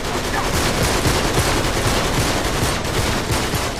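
Rapid gunfire from a heavy weapon in the video game Uncharted 3: Drake's Deception, dense overlapping shots sustained loud and steady across the whole stretch with no talk.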